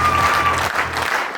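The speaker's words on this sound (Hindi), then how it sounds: "मेरे लिए ताली बजा रहे हो?" An indoor training-session audience breaks into loud applause, a dense burst of many hands clapping that holds steady and then begins to thin out.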